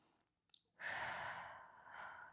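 A person breathing during a total body stretch, a couple of faint short sniffs followed by a long, close, airy exhale that trails off slowly, alone without talk.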